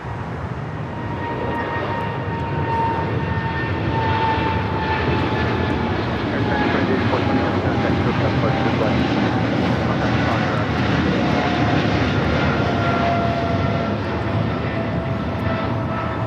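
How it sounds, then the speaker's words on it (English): A China Cargo Boeing 777 freighter takes off from LAX bound for Shanghai, its jet engines producing a broad, continuous roar that stays loud and steady throughout. "China Cargo 777 freighter taking off. Taking off to Shanghai, flight 8420."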